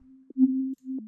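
Detuned sine wave synth bleep for deep techno, a short run of pure low tones with gentle reverb, clean and isolated, with no talk.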